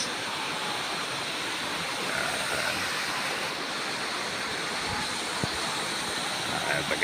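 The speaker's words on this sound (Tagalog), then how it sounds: "mga tubig na dumadaloy" Water pours steadily at Bolinao Falls, a continuous rushing wash. It sounds fairly close and even throughout, with no talking.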